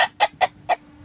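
Farm hens cluck in four short, clipped bursts, close and clear, with brief gaps between each call.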